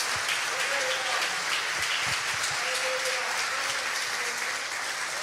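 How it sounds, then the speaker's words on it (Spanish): Church congregation applauding during a Sunday morning service, a dense, steady wash of many hands clapping that fills the whole stretch, with faint voices underneath. "Denle un aplauso al Señor esta mañana."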